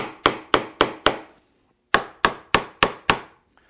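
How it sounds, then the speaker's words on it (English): Hammer blows drive nails into a wooden template on a top rail: two bursts of five sharp, evenly spaced strikes separated by a short pause, close and loud with no talking. "then I'm going to nail that template on the back side."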